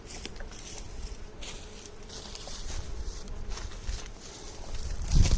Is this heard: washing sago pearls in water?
no